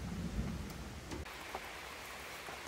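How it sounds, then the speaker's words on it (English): Rain falls steadily on a farm during a thunderstorm, a soft, even hiss with a faint low rumble fading early on, quiet and without talking. "And it's raining."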